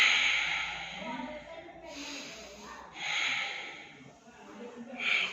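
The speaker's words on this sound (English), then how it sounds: "Inhale and exhale with the eyes closed." Slow, deep breathing during a yoga cool-down after Surya Namaskar: long, airy inhales and exhales, close and fairly loud, in a steady rhythm of about three or four breaths with nothing else heard.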